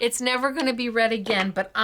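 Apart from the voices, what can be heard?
No everyday noise stands out behind the speech.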